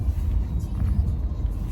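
A car driving along a road gives a low, steady rumble of engine and tyre noise, heard from inside the vehicle for a couple of seconds.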